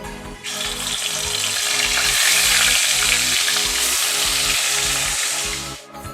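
Small rohu fish fry in hot oil with a loud, steady sizzle, broken by periodic low stirring scrapes and a short lull near the end.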